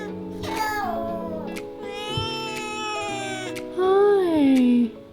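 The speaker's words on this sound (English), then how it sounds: "And now, there's a cat in the room." Friendly collared cat in a holiday room in Nusa Penida, Bali, giving several drawn-out meows close by, the last one loud and falling, amid soft voices and household sounds.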